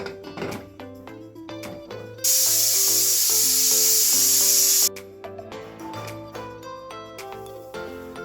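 A pressure cooker holding cauliflower gravy lets out a loud, steady hiss of steam for about two and a half seconds, then stops abruptly, with music playing throughout.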